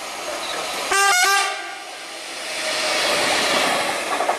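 A GB Railfreight Class 66 freight locomotive, 66793, passes through Johnstone station and sounds a loud two-tone horn blast of about half a second. Its rumble then continues steadily to the end, with no talk.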